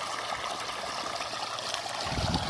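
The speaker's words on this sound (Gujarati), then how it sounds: "તો પાણી જો અહીંયા આવી ગયું," Irrigation water pours from a pump pipe into a field, a continuous close trickle and splash with no voices.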